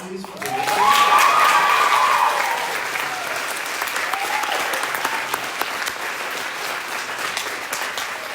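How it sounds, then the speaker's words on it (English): An audience applauding after a literary arts performance at a high school, loud clapping that swells quickly and then settles into a steady, slightly thinner patter. "Let's have one more round of applause"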